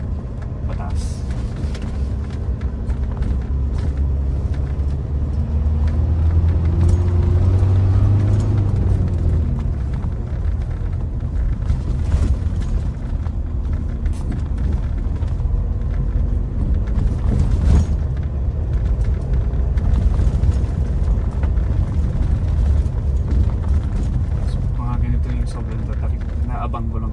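A 2016 Mitsubishi Montero Sport GLS 4x4 with a manual transmission climbs a steep road in Baguio City, its engine droning and rising in revs throughout, with someone talking over the engine sound.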